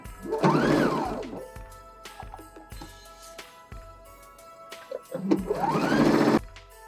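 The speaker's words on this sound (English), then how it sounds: "now I'm just going to sew 1/8 of an inch from the edge in just to keep these two layers together" A sewing machine fitted with a Teflon foot stitches through layers of vinyl in two loud, whirring bursts near the edge, with softer mechanical clicks and taps in the pause between them.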